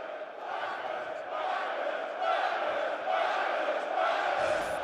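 A large esports crowd at a Birmingham arena chants in unison, a dense, roaring wave of voices that swells and holds steadily, heard from a distance and with no single voice standing out.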